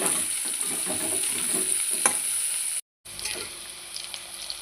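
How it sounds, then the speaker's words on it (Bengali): Continuous sizzle of potatoes and onions frying in a pan with light stirring, briefly cut to silence near the end before the sizzle resumes. "এই আলুটা একটু ভেজে নেব পেঁয়াজ আর আলুটা একটু ভেজে নেব"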